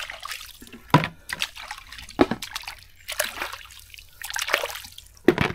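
Freshly caught kibaw shellfish being rinsed in water, with close sloshing, splashing and trickling in irregular bursts throughout.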